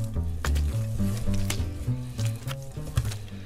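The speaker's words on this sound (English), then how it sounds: "So I'm just gonna kind of stir it until everything is really" A smoked salmon and cheese mixture is stirred into a chunky spread, giving close, wet squishing and soft scraping strokes in an uneven rhythm.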